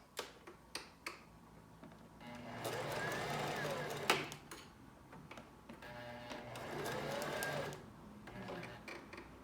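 A sewing machine stitches 20 denier Swiss lace in two steady whirring bursts, each a few seconds long, after several sharp clicks, with the operator speaking around the stitching.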